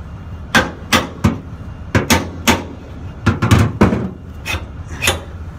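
A hammer strikes a part on a newer trailer to force it to move, about a dozen sharp, close metallic knocks in irregular bursts, some quick doubles, with short pauses between.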